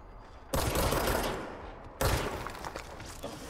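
Two loud bursts of rapid gunfire from the video game Control, each lasting over a second, with the second starting a moment after the first ends, close and harsh.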